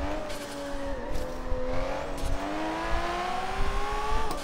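Lamborghini engine revving and shifting in the racing game Forza Horizon 3, a loud continuous whine that climbs and drops between gear changes, with faint tire noise and no talking.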